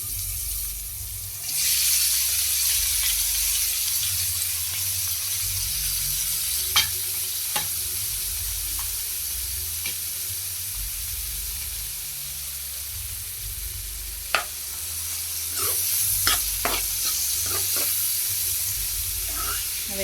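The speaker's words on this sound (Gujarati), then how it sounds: "તો લસણ ચડી ગયું છે થોડુંક, તો એમાં ડુંગળી નાખી દઈશું" Onion and garlic frying in a pan for an eggplant bharta, a steady broadband sizzle with a few sharp clicks of a spoon stirring against the pan, close and loud with no talking.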